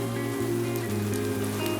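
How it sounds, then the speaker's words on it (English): Steady rain falls continuously at a ski area around Lake Tahoe in ugly, wet weather, a dense hiss with no voices. "Raining. Snaining. Pretty ugly right now."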